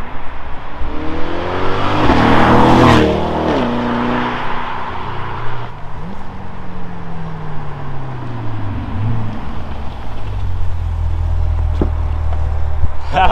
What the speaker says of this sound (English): That is a nasty acceleration. It sounds so cool.